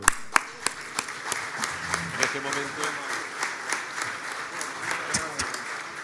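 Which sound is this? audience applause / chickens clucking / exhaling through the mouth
audience applause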